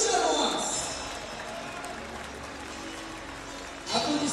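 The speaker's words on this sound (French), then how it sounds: "Applaudissements, s'il vous plaît," A basketball crowd at a French youth-league game claps for the home team, a dense burst of applause that swells, dips through the middle and rises again at the end, with an announcer's voice over it.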